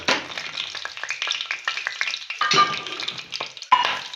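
Cumin seeds sizzle and crackle in hot oil in a pan, a steady close frying hiss with scattered sharp pops and brief stirring scrapes, with no voices.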